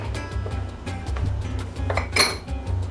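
Metal pots and pans clink and clatter over a low, steady hum, with a brighter crash of cookware around two seconds in.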